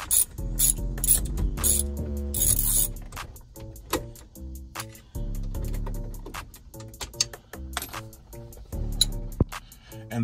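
Screws come out of the dash radio of a Chevrolet Tahoe, giving close, repeated ratcheting clicks and metallic rattles in uneven bursts with short pauses between them.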